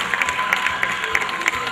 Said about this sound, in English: Please also give a big round of applause to our concert committee.